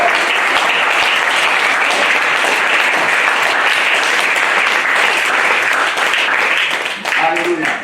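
A church congregation applauding and cheering for the Lord at a youth seminar, with dense, loud, sustained clapping and crowd cheers that fill the room and taper slightly at the end.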